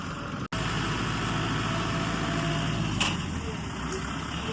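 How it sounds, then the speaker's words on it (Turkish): A tractor engine runs steadily close by during olive harvest work, a constant rumbling drone with a brief dropout near the start and faint voices in the background. "Bayağı bir traktör böyle sallıyor."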